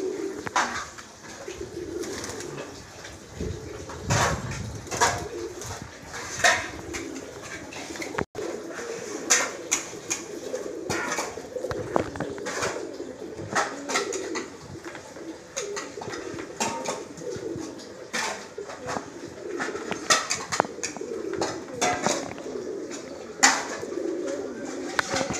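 Madrasi pigeons coo over and over in a loft, a dense, steady chorus of low throaty calls with scattered sharper clicks and scuffs, close by and continuing throughout without speech.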